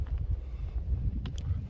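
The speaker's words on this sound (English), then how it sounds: "it is a little bit breezy out here today" Outdoors at Cahokia Mounds State Historic Site, a breeze buffets the microphone with a low, steady rumble for a brief moment, with no other clear sounds.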